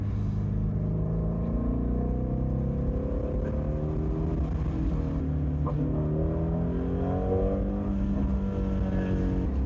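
Dream car engine pulling hard in third gear, a loud sustained roar with rising harmonic tones sweeping upward through the whole stretch, close and continuous with no talk.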